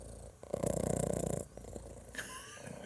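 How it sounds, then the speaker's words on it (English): A house cat purring loudly on a person's lap indoors, a steady close rumbling purr that swells for about a second before easing back to a quieter background hum. "The cat's just joined me and jumped on my lap, so you may get a bit of purring."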